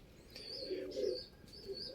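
Pigeons coo and call softly from a rooftop loft in the early morning, low murmuring coos repeating over about two seconds with faint higher chirps, fairly quiet and steady.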